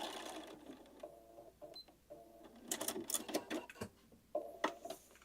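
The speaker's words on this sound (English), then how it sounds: "So very carefully edge stitching." A sewing machine edge stitching heavyweight denim runs in short rattling bursts, its needle chattering rapidly between brief pauses, close and moderately loud.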